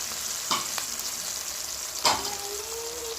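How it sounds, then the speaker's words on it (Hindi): Onion paste, yogurt, garlic-ginger, tomato paste and spices sizzle steadily in a karahi for beef karahi, with two sharper scraping stirs of a spoon against the pan cutting through the frying hiss. "लहसुन अदरक, टमाटर का पेस्ट और ये बाकी मसाला जात भी हमने इसमें डाल दिए"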